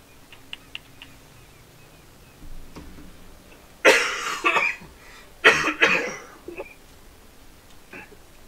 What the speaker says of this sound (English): Sounds like a nasty cough.